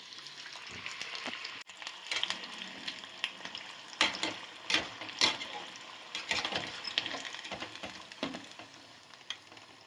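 Capsicum bajji fritters fry in hot oil with a steady, crackling sizzle and occasional sharper pops and stirring sounds, close and fairly loud, with no talking.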